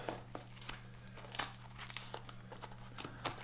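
A yellow padded mailing envelope is cut open, giving quiet crinkling and tearing with a few sharper rips and rustles in an otherwise calm room.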